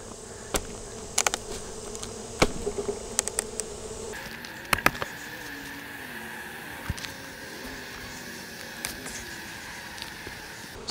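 Honey bees fan inside a hive while honey supers are pulled at a bee farm, making a steady close buzzing drone with scattered faint clicks and taps over it.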